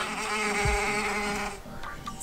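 Bee buzzing played from a phone app for dogs, a steady droning hum held for about a second and a half before it cuts off, followed by a few faint handling noises.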